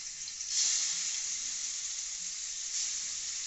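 Chicken coated with ground black pepper fries in a kadai, giving a loud, steady hiss of oil that swells slightly as the pieces go in and then holds without a break.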